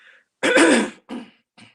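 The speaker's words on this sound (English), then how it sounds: "Excuse me a minute, I got to clear my throat." Someone clears their throat: a strong rasping burst followed by two shorter, fainter rasps, close and alone with no talking.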